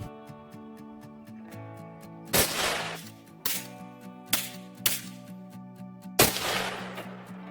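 Rifle shots fired for a second shot group on a range, several sharp loud cracks spaced a second or so apart over a steady background hum.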